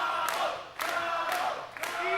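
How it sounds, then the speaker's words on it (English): Wrestling crowd at a Prestige Wrestling show roaring for Chavo Guerrero, a dense, loud wash of cheers and whoops that surges in repeated swells. "Listen to this crowd coming alive for Chavo Guerrero."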